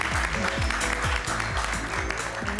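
Audience applause at a talk show event, a broad wash of clapping that fills the clip under faint music tones, with a voice speaking briefly through it.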